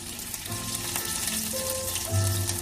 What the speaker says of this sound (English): the oil has heated up, so we're just gonna add a bit of garlic. It's gonna make a lot of noise.